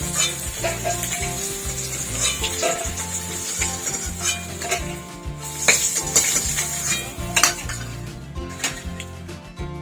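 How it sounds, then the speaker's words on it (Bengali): Potatoes fry in the oil left from frying rohu fish: a continuous close sizzle with stirring, scraping, and the clink of a metal utensil against the pan, with no voices. "মাছের তেলেই আমি আলুটা একটু ভেজে নিচ্ছি।"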